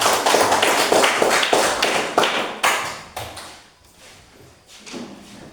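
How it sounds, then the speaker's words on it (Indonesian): Classroom applause for a student group: a few people clapping in quick bursts of sharp, close claps for about three seconds, then trailing off into quiet room noise with a few stray claps. "Kita beri aplaus kepada kelompok 2"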